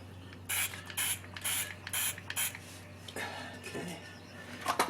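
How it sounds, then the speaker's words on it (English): Several short bursts of an aerosol sealant spray hiss in a loose rhythm close by, followed by quieter sprays and faint handling noises. "Now let's spray the bottom portion of it."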